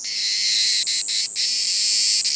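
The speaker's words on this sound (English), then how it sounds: "It's a cicada. It says here that cicadas are the loudest of all insects." A steady, loud, high-pitched insect drone fills the whole clip, with a few brief dips breaking the continuous buzz.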